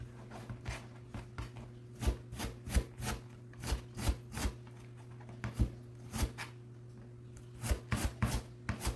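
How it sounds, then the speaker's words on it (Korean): A knife dices carrot on a cutting board, first cutting strips and then turning them to cube, giving irregular sharp chops and taps in quick bursts with short pauses, close and clear over a steady low hum. "또 똑같이 먼저 채를 썰어주고 이제 돌려서 다이스를 해줄 거예요"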